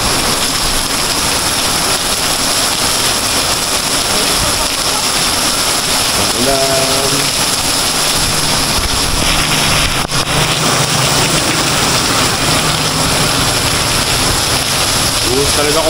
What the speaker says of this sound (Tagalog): Nakalagpas kami sa malakas na ulan